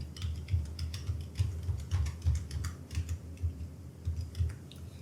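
Fingers type steadily on a computer keyboard while entering text into an Excel sheet, a close, continuous run of quick key clicks with no speech.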